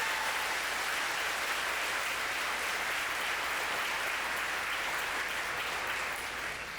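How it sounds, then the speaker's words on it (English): A conference audience applauds flag carriers at an opening ceremony on ending homelessness, a steady dense clapping that holds strong throughout and eases slightly at the end. "give a round of applause for all of our flag carriers here today"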